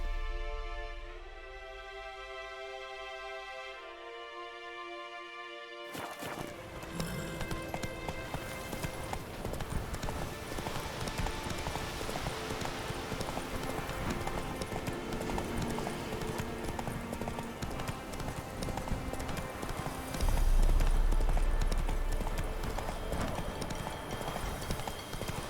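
Roach, Geralt's horse in The Witcher 3, clip-clops steadily on hooves through most of the stretch under a dense game soundscape of music and ambience, starting after a quieter musical opening.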